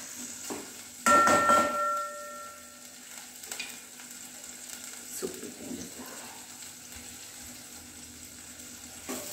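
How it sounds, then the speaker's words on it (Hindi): Tomatoes added to a pan of roasted garlic for spring onion sabji sizzle and fry steadily, with a loud burst of frying and clatter early on settling into a continuous, moderate sizzle, with no talk. "अब हम इसमें डालेंगे टमाटर। हम टमाटर को थोड़ा सा नरम होने तक हम पकाएंगे।"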